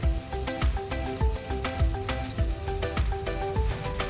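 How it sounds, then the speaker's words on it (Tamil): Onions sautéing in a pan with green chillies for sambar rice, a steady close sizzle and frying crackle with regular stirring scrapes throughout, no voices. "இப்போ பார்த்தீங்கன்னா வெங்காயம் நல்லா வதங்கிடுச்சு."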